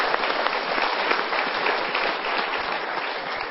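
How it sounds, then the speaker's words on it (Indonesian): Sustained applause from a live seminar audience, dense and steady clapping filling the room at close range for the whole stretch, with no voices over it. "Kita berikan tepuk tangan dulu."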